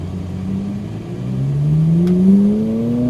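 A Ferrari 458 Italia engine revs up steadily on track, its rising pitch climbing smoothly over about three seconds as the car accelerates, loud and close with no voices.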